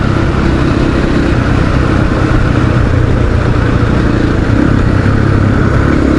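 A KTM 500 EXC-F dirt bike engine drones steadily while riding in a high gear, a loud, continuous low rumble with constant wind noise and no breaks, holding an even level throughout.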